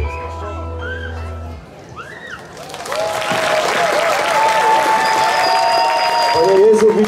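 Audience applause swells after a short stretch of singing, growing into loud, sustained clapping with whistles and voices mixed in.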